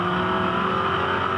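HSV race car at Eastern Creek in the 2007 Australian Performance Car Championship, engine wound up and accelerating hard, a loud steady high-revving drone held close throughout.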